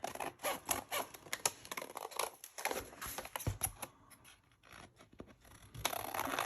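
Scissors snip through coffee-dyed journal paper close by, a quick run of crisp cuts and rustles with brief pauses between strokes, then a steadier stretch of trimming near the end.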